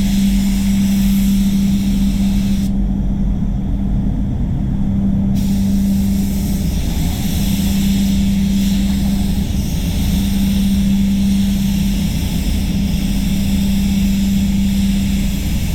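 A spray gun lays clear coat on a Mazda CX-5 during a candy respray, producing a loud, steady, unbroken hiss of rushing air that runs nearly the whole time, with no talk.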